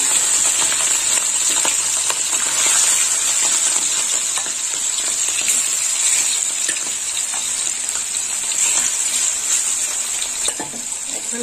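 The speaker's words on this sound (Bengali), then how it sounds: "গরম হয়ে গেছে, এবার চিংড়ি মাছগুলো ভেজে নেবো।" Prawns, 300 grams rubbed with salt and turmeric, sizzle in hot oil in a pan, giving a steady loud hiss and crackle with occasional spatters throughout, no voices.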